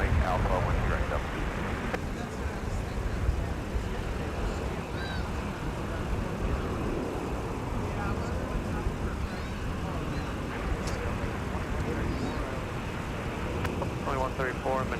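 An airliner landing or taxiing on runway 12 right at Minneapolis airport during winter deicing operations, heard as a continuous broad jet rumble, with air traffic radio voices talking over it.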